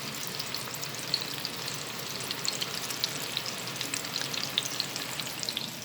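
Homemade meatballs frying in a pan give a steady, faint sizzle and hiss with scattered small pops and spatters, continuous throughout and heard alone.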